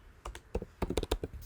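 Soft keystrokes on a computer keyboard while JavaScript variable declarations are entered. Scattered clicks come in an uneven cluster, close but quiet, with no voices.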